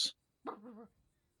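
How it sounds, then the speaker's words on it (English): Dogs in the background: a short sharp yelp followed by a brief whining, wavering bark-like cry, fairly faint and alone with no talk. "I can't control the dogs in the background"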